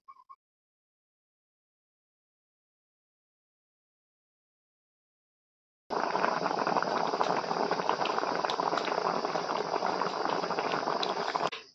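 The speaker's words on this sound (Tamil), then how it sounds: "இப்போ வந்து மாம்பழத்தை வேக வைக்க போகிறோம், அதனால் தேவையான அளவு தண்ணி சேர்த்துக்கலாம்." Mangoes boil in water in a pot for a mango curry, a loud, steady bubbling hiss that starts abruptly after near silence and continues for about six seconds.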